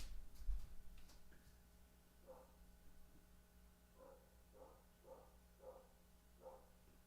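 A dog barks faintly in the distance, a series of about six evenly spaced barks under a quiet steady indoor hum.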